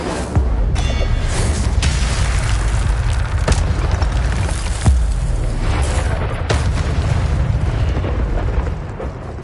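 A loud, sustained roaring burst of flame from the Incendio fire spell in Hogwarts Legacy, with rumbling booms and crackling impacts throughout.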